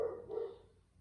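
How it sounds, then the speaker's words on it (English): A pet dog barks indoors, two short muffled woofs heard at a distance, fairly faint, with a quiet room around them and no talking. "Don't know what my dog's barking about"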